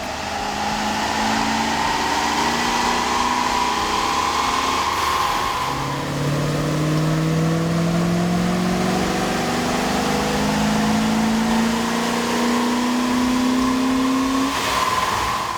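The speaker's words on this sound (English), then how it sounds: "we ran the vehicle on the dyno to test the sound comparison versus the stock intake" A Dodge Ram 1500/2500 pickup's 5.2L or 5.9L engine with an aftermarket air intake drones loudly on a dyno, its pitch sweeping up and down through repeated revs, a continuous mechanical roar with no speech.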